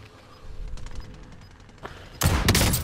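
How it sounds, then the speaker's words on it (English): Video game gunfire: scattered distant shots at first, then a loud close burst of rapid automatic fire from a submachine gun at the end. "I've only got a fucking submachine gun, I can't hit him."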